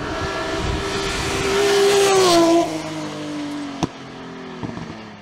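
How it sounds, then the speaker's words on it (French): BMW M3 E36 race car in a hill climb race in group N, class N4, its engine rising to a loud high-revving pitch as it passes, then dropping away with a sharp click near the end. "Sébastien Lemaire remporte le groupe N et la classe N4 au volant de sa BMW M3 E36."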